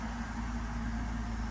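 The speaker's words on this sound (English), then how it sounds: "the idle is gonna raise a little bit" A BMW M240i engine idles quietly and steadily, its low hum and faint tonal drone continuous and even, with no voices over it.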